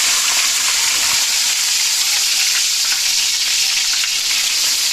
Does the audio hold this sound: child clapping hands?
no